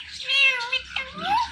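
A pet ringneck parrot mimics a cat's meow, giving a drawn-out, rising-and-falling meow-like call that sits close and fairly loud, followed by a short higher upward-sliding call.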